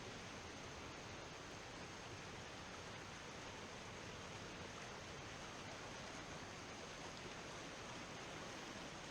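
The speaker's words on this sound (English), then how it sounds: "you can there see the whole effect as the falls approach the railroad trestle in US 41" A waterfall on the Falls River near a railroad trestle by US 41 rushes in a steady, dense roar of water, constant and unbroken with no voices.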